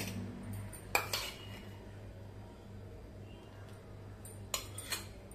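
Small mango pieces drop into drinking glasses for mango mastani, with a few light clinks and taps against glass near the start and end over a quiet room hum.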